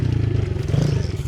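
A dirt bike runs a short section of a backyard dirt track, its engine droning close and steady with a rough, buzzing note and a brief scrape of loose dirt.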